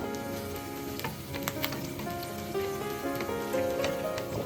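Chopped onions fry with a steady close sizzle in a hot pan, with scraping stir strokes breaking through the hiss now and then.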